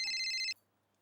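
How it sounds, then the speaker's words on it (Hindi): A telephone rings in a home, one bright electronic trill lasting about half a second that then cuts off abruptly, leaving near silence. "फोन आया।"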